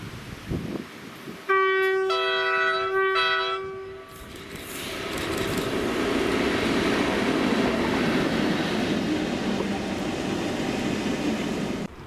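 Class 90 locomotive 90.003 works a train on the Edinburgh to Glasgow main line toward Mossend, opening with a loud multi-tone horn blast before the train roars past in a long, steady, close rumble.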